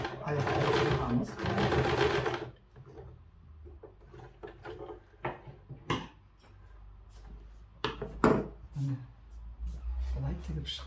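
Sewing machine stitching a skirt waistband, running in a short loud burst at the start, then several quieter intermittent clicks and brief runs as the fabric is handled, with a voice talking over parts of it.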